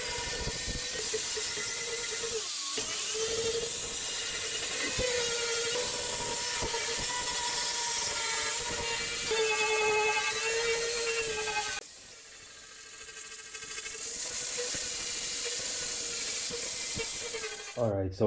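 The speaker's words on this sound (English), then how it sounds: "I could get away with just using a flap wheel, cleaning all this rust off and adding some rust stopper to it" A flap wheel grinds rust off the rear panel of a BMW E36, a harsh whining, scraping drone that runs loud and close with brief pauses and shifts in pitch as the tool presses on the metal.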